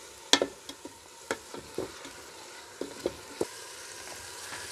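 Tomato and ginger fry with chicken feet in a village kitchen, a close sizzling hiss punctuated by repeated sharp spoon clacks and scrapes against the pan as the mixture is stirred, no voices.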